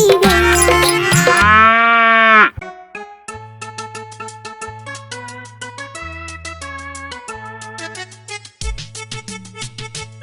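A single long, drawn-out cow moo, loud and close, swells and fades over the first couple of seconds, then gives way to a bouncy children's Hindi nursery-rhyme tune.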